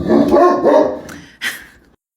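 A dog barks in a few loud, close yips and barks indoors, each short burst followed by a brief pause before falling silent.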